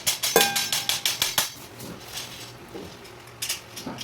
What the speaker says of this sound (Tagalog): So, kumuha ko ng martilyo.